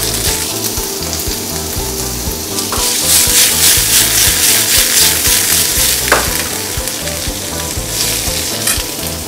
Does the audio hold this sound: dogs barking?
no